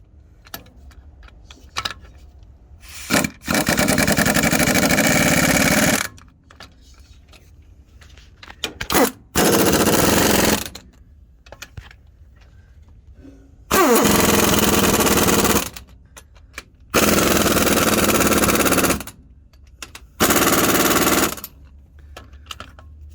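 Impact wrench driving a 1/2 inch 12-point socket on the differential cover bolts of a Freightliner semi truck, in five loud, sustained rattling bursts of about one to three seconds each, with quiet pauses and small clicks between them.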